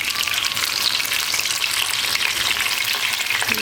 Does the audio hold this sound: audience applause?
no